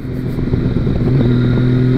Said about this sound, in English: That's how I would describe the engine in this bike.